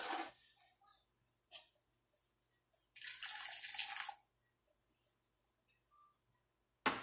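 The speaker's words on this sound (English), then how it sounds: "So what I'm going to do is pour a little bit of my water mixture in here, just a bit." A water mixture is poured into a pot of rice in a home kitchen, giving a short splash, then a steadier pour of about a second, with scattered drips and faint clatter around it.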